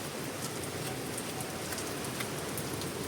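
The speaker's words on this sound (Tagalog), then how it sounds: "Pulo-pulo ang ulan ngayon." Light rain in Dinahican, Infanta, patters on nearby surfaces as a soft continuous hiss with a few sharper drops standing out, no talking.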